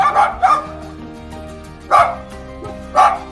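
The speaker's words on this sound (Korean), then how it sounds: "옆에 보니까 강아지들이 이게 반겨주는 건지 집을 지키는 건지 모르겠습니다." Dogs at a farm house give four loud, close barks in two pairs, with short gaps between them.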